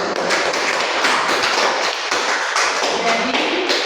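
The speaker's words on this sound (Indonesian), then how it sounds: "Kita berikan aplaus untuk kelompok yang sudah" Classroom applause for a student group that has just finished presenting, a dense steady clatter of many hands clapping throughout, fairly loud and close, with no voices.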